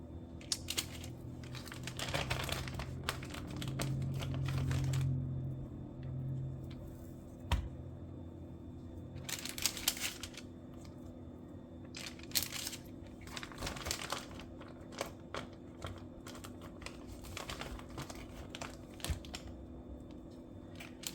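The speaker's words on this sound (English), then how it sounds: "I'm going to line my bacon on this parchment paper." Crinkling parchment paper rustles in bursts as strips of raw bacon are laid out on it, close and fairly quiet, with a steady low hum running underneath.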